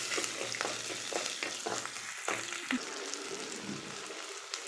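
Shallots and garlic sauté in a pan for a village-style chicken curry, a soft, quiet sizzle broken by a few scraping stirs.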